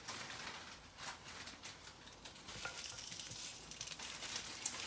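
Pork chops sizzling and frying in a pan with onions, a soft continuous crackle and hiss that rises slightly over several seconds, with occasional light stirring.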